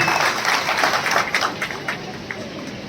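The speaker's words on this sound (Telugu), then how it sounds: "అందరూ చప్పట్లతో మరి స్వాగతం పాత్ర కోరుకుంటున్నాం" Crowd applause welcoming a minister at a ration card distribution event in Huzurnagar: dense, steady clapping from a large audience that holds at full strength for about three seconds, with a few sharper claps standing out near the end.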